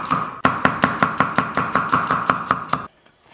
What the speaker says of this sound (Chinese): 咱们给它切成蒜片